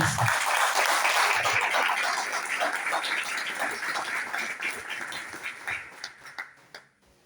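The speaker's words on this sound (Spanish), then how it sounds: "les pido un fuerte aplauso para ellos" An audience at a book launch in a bookstore in Peru applauds, a dense wash of clapping that starts strong and gradually thins to a few scattered claps before stopping.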